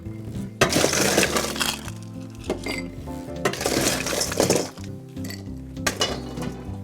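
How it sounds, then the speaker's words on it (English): Ice cubes clatter and clink into a cocktail glass holding orange bitters, with several loud bursts of hard tumbling cubes and short pauses between them. "Add some ice."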